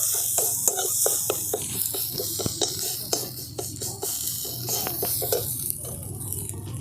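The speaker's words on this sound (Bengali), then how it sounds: "খুব ভালো করে আমি এই তেলের সঙ্গে কষিয়ে নিচ্ছি।" Ground turmeric, cumin and coriander sautéing in oil, stirred with a utensil that scrapes and taps the pan in a steady run of light clicks over a soft sizzle, moderately loud and close.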